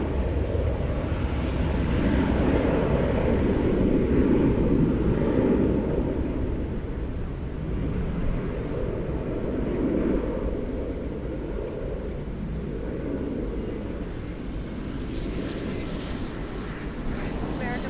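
An American Airlines Airbus A321 jet departs DFW airport with a broad, continuous engine roar. The roar stays steady and loud, then eases slightly as the jet moves off.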